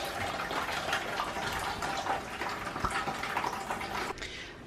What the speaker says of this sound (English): And we're gonna let most of the water run out of that